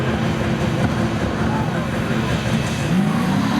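A 1986 Camaro and a red 1991 Mitsubishi launch side by side at a spectator drag race at Seekonk Speedway, engines roaring loud and steady with a rising pitch near the end, crowd noise mixed underneath.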